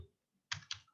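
Computer keyboard typing, two quick close keystrokes in an otherwise quiet room, crisp and near.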